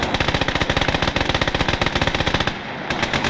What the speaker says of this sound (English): The machine guns from the side of that tank are absolutely shredding